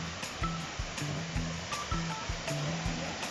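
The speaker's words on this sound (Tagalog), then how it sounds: "Mo na ang Indangan Falls." Indangan Falls in Kidapawan City roars as a constant broadband rush of falling water, with a regular low thumping rhythm layered over it.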